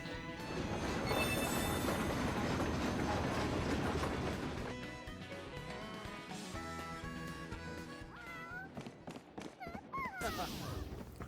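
Train ride in Final Fantasy Crystal Chronicles: The Crystal Bearers, a steady loud rumble with rhythmic clattering that eases after a few seconds, with game music and scattered clicks and chimes over it.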